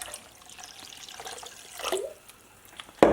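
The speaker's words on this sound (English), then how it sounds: "now I'm gonna add some more water, people" Water poured into a soursop juice mixture in a home kitchen, a soft trickling splash that swells briefly mid-way and ends in a sudden louder burst of pouring.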